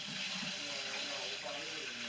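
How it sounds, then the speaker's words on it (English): Hot water runs from a kitchen tap in a steady, close hiss of flowing water, used to warm a spoon for scooping hard homemade ice cream, with faint voices underneath. "take your spoon, turn on hot water"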